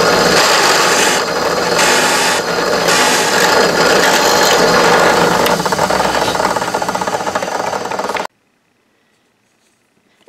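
A power drill bores holes through wood for an old-school lighted jewelry Christmas tree, giving a loud, continuous grinding rasp for about eight seconds before cutting off abruptly to near silence.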